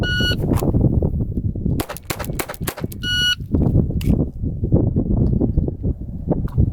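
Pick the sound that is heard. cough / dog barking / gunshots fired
gunshots fired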